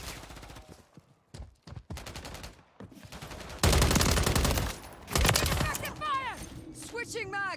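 Rapid automatic gunfire from a Modern Warfare 3 weapon, bursts of shots in quick rhythm with louder dense stretches and pauses between, close and prominent, with short metallic game sound effects toward the end.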